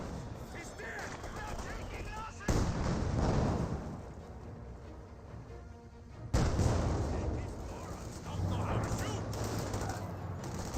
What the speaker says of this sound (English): Next mortar may get a good hit.